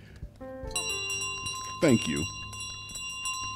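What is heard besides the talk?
bell ringing in Untitled Goose Game video game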